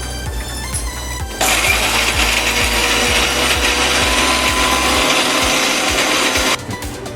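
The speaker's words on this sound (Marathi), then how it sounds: "आता आपण मिक्सर लावून घेऊया।" Electric mixer grinder whirring loudly as it grinds ginger, garlic and cumin into a paste, a steady high-speed roar that holds for several seconds after a short start-up, then cuts back near the end.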